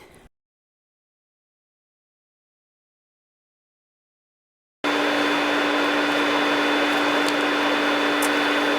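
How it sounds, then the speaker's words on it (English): A vacuum cleaner used to vacuum a hydrangea bush starts after several seconds of silence and then runs with a steady, loud whining roar, close by. "Okay, we're gonna try to vacuum."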